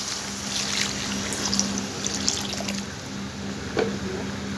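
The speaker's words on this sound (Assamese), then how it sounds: "এয়া মই গৰম পানী দি আছোঁ" Hot water is poured steadily into a simmering fish curry, giving a continuous close watery trickle and pour with no speech.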